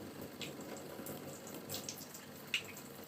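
Tap water runs steadily into a sink, a continuous quiet splashing fill with a few small clinks, no talking.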